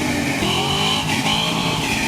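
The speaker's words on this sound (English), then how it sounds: "Let me hear some mad revs." A car engine revs hard and continuously, loud and close throughout, with a busy mid-range roar and no speech over it.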